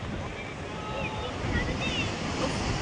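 Sea waves wash ashore at Digha beach close to seated onlookers, a continuous rushing surf mixed with wind buffeting the microphone, fairly steady and moderately loud.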